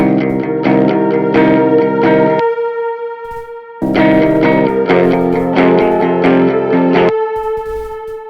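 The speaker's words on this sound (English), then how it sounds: "let's just make it even more atmospheric with a bit of stock delay and reverb" A sustained synth chord, a floating atmospheric pad, plays in pulsing bursts, washed in stock echoing delay and reverb that lingers through a brief gap before the chords return.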